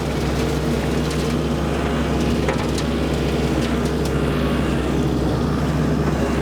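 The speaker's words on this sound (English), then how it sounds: "the rotary cutter is moving behind the tractor a little bit" A tractor pulls a Land Pride RCR1872 rotary cutter through mowing, making a loud, steady droning engine and blade roar throughout, with scattered crackles of cut material and no talk.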